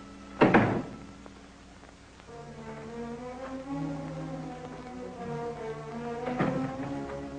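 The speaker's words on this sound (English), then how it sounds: "Use the hall door if you wish." A door in a 1940s radio-style drama scene opens with a sharp knock-like thump, then closes again a few seconds later with a second thud, while a sustained orchestral music bed plays throughout.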